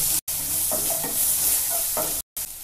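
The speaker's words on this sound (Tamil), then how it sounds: "வெங்காயம் கொஞ்சம் வதங்கினதும் நம்ம எடுத்து வச்சுருக்கிற பூண்டையும் இஞ்சியையும் சேர்த்துடலாம்." Onions with garlic and ginger sizzle steadily in a pan while a spoon stirs and scrapes them, close and continuous, with two brief cutouts.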